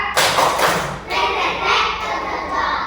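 Schoolchildren in an Indonesian classroom clap in unison during a counted chant, producing a couple of bold, close group claps that rise above faint background chatter.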